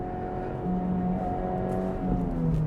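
A 2023 Honda Civic Type R engine hums steadily from inside the cabin, its pitch stepping and climbing after a downshift to second gear, with the revs rising toward the end and no talking.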